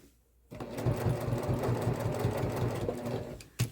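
A sewing machine stitches a messenger bag strap with a loud, close, steady rhythmic motor hum that starts after a brief quiet moment and stops near the end.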